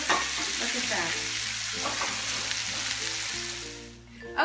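Mushrooms fry in a pan on a gas stove, giving a steady, close sizzle with a low hum underneath that fades slightly near the end.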